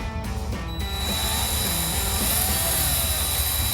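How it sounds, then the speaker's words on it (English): A power drill whines steadily and close up while drilling a hole in a Dodge Charger rear spoiler, its motor holding a high, continuous pitch throughout. "We're going to use our drill again."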